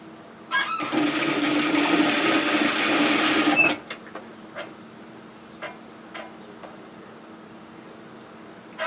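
A sewing machine runs a pin stitch along a seam on bib overalls, making a close three-second burst of rapid stitching. It stops, and soft scattered ticks and small handling clicks follow in a quiet room.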